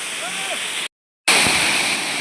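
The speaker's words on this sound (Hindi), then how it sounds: "देखो बर्फ के पहाड़ और पानी कैसे गिर रहा है ऊपर से। ये वसुधारा झरना।" Vasudhara waterfall in the Himalayas, below snow-covered mountains, roars as a steady broadband rush of falling water, loud and close, with a brief gap midway before the torrent resumes.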